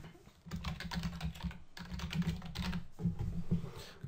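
Steady clatter of keys on a computer keyboard as a resource name is typed into project scheduling software, with short bursts separated by brief pauses.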